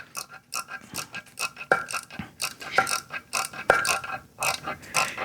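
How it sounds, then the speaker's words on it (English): Ratcheting clicks from a torque wrench tightening a head cap bolt on a Tillotson 225cc small engine during a rebuild, a run of close, fairly loud mechanical clicks and turns in uneven bursts with no talking. "we'll get the torque wrench out"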